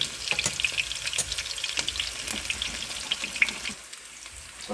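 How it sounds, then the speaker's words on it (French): Onions sizzle and crackle steadily in a hot pan, with a close, continuous frying hiss and scattered pops, while being browned for a homemade mashed potato dish. "il faut bien griller les oignons"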